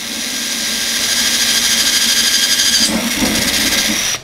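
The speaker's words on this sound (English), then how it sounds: "Through with the slow drill." A power drill fitted with a 5.5mm bit runs at slow speed for a few seconds, steady and loud up close, with a pulsing whine that shifts in pitch as the bit bites through the material, then cuts off.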